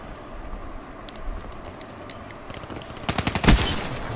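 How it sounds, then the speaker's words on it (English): Gunfire in a video game shooter, a burst of rapid shots clustered near the end with one louder bang, over a steady low game background. "I shoot it on the head!"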